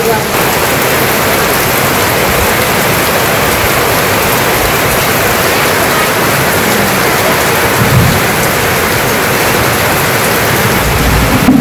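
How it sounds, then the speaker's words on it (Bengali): Heavy, steady rain pours down in a dense, loud roar, with low rumbles mixed in and faint voices beneath. "আর অন্য বৃষ্টি নেমে গেল।"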